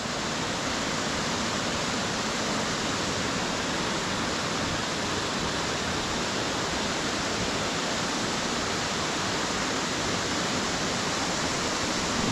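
Stichill waterfall, with water pouring in a continuous broadband rush that stays steady and moderately loud throughout, with no voices.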